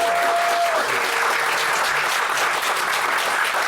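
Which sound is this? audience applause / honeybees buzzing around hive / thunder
audience applause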